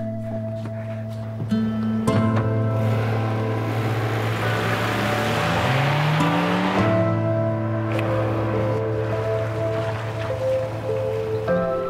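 A car drives steadily with a constant low engine hum and tonal drone, its pitch shifting gently mid-way, heard from inside over faint background patter, with no talking.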